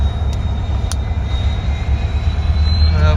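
A loud, steady rushing roar of a high-speed train on a test run passing close by in Beed, with rumbling low end and brief sharp clicks.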